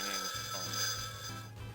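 A telephone rings in the PC shooter Duke Nukem 3D, Atomic Edition, running on EDuke. The electronic ring is steady and fairly quiet, with clear tonal harmonics and no speech over it.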